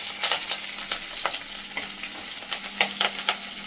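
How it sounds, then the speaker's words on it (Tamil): Curry leaves and garlic crackle and sizzle in hot oil in a home kitchen, a steady close frying hiss broken by scattered sharp pops and spits, with no talking. "கருவேப்பிலை வெடிச்சு கருவேப்பிலை தண்ணி"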